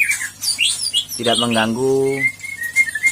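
White-rumped shama calling near a breeding cage, with a few whistled notes and short chirps and one rising, harmonic-rich call in the middle, heard fairly close.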